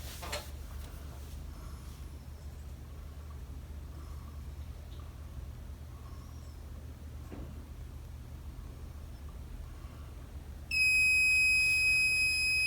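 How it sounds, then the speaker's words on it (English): Proteus oil water separator low liquid alarm buzzing: a steady high electronic tone suddenly starts near the end, loud and continuous, over a low background hum. "you still would have your low liquid alarm"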